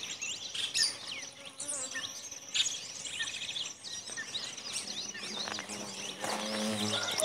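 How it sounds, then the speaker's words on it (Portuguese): Chirping and twittering of birds at dawn in the Brazilian countryside beside a rural dirt road, a busy layered chorus of high calls with buzzing insects mixed in, fairly close and steady throughout. "As alegrias dos pássaros, né?"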